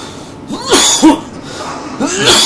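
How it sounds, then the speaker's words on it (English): A few harsh coughs close to the mic, bursting out in quick fits with short gaps, voiced and rough. "oh god, why am I coughing so much?"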